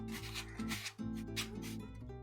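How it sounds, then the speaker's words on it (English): Sandpaper works over a cosplay costume piece for a Honkai Star Rail outfit, giving quiet, continuous rubbing strokes with short pauses between passes, close but soft. "I need to do sanding to get this done"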